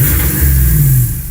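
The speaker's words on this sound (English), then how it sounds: "Some nice revs there" A Chevy Silverado ZR2 pickup revs through an AWE dual Bashguard exhaust, giving a loud, close, deep engine roar that swells and holds steady for a moment while the truck cruises.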